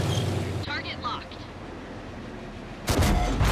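A heavy cannon blast from a Nashorn tank destroyer in a tank battle video game, a sharp loud boom at the start followed by a rumbling tail, then another burst of loud noise near the end.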